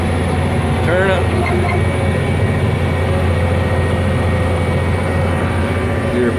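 A John Deere 9630T tractor engine drones steadily and loudly while field cultivating, a constant deep rumble with a faint whine, heard from inside the cab.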